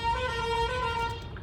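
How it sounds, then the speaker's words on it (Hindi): A loud car horn blares continuously for over a second at a toll plaza, a steady honk amid nearby traffic rumble. "इनको लग रहा है हॉर्न बजाने से जल्दी हो जाएगा काम।"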